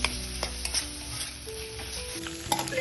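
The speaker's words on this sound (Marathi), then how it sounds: "आता आपण याच्यामध्ये कांदा टोमॅटो बाकीचे जिन्नस टाकून घेऊन छान हे परतून घेऊया" Onion, tomato and other ingredients stirred in roasted spice masala for misal, with a steady sizzle in the pan and intermittent scraping and clinking of the spoon against the pot, close and clear.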